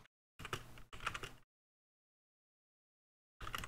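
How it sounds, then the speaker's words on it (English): Computer keyboard typing in short close bursts of rapid clicking, two quick runs, a long silent pause, then another burst, with no voices. "Let me type it in here."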